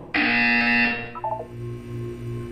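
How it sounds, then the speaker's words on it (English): Buzzer in the Portal video game, a loud, harsh electronic tone that blares for nearly a second, then a short trailing blip, over a low background hum. "You will hear a buzzer."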